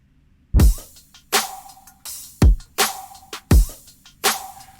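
An electronic drum beat layered over a punchy kick in a pop production, repeating in a steady pattern of deep kick hits alternating with bright snare or clap strikes, loud and upfront without voices.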